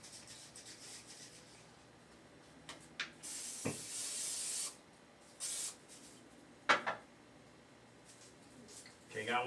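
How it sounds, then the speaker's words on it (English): Cooking spray hissing from a can onto a surface while making cheesy potato dill pierogi, several short bursts of bright spray with soft kitchen rustling and handling noises between them. "Let me try this cooking spray."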